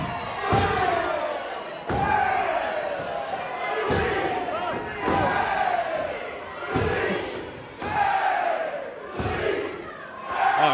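Dense arena crowd at an MCW pro wrestling tag-team match roars and chants in rhythmic bursts roughly every two seconds, a loud, continuous wall of cheering and shouting close around the listener.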